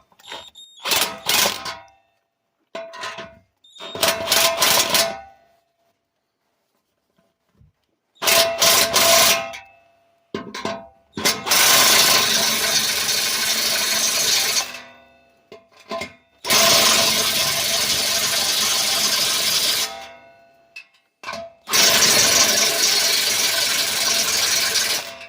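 A socket ratchet tightens a muffler clamp on the exhaust of a 1998 Ram 1500, loud close clicking in short bursts at first, then long sustained runs of rapid pawl ratcheting separated by brief pauses.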